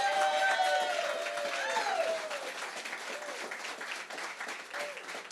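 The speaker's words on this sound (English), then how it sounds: "that is worth a round of applause for this man" Steady crowd applause for Dr. Charles Smith at an award ceremony, loud and continuous throughout, with some cheering and tonal sounds layered over it before it slowly eases off.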